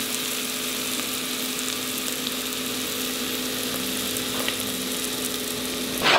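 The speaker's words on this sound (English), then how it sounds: "our mushrooms have been cooking for like 10 minutes and we've actually got some nice caramelization going" Lobster mushrooms and onions sizzle steadily in a pot, a constant close frying hiss with faint stirring, no voices.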